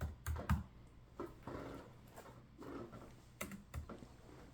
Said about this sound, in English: So if I click on the box and type in my name,